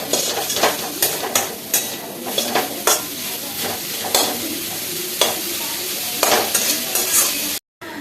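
Chopped chillies and tomatoes sizzle steadily in a frying pan while a utensil stirs and scrapes against the metal in repeated sharp strokes, close and alone with no voices.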